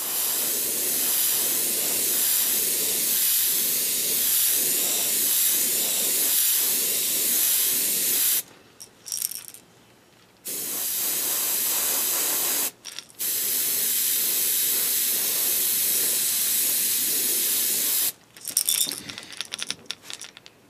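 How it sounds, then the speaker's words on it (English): A Neo Echo SJ83 airbrush sprays paint through a homemade stencil onto a crawfish-pattern lure, a steady close hiss in long bursts broken by brief pauses with small clicks and rattles. "We're spraying this out of a Neo Echo"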